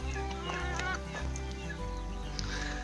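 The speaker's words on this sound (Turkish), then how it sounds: "Bizim tavuklar gerçekten uysallar" Several chickens cluck and chatter close by in a busy, overlapping flock, with a low steady hum underneath.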